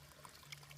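Spring water flows straight out of a hillside along the Appalachian Trail, a faint, steady trickling pour with a soft splash, distant and quiet, no voices.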